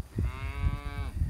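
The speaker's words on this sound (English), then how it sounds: "Several of them Brangus heifers in here." Brangus cattle, cows and heifers in a pen, give one long drawn-out moo lasting about a second, loud and close, over low background noise.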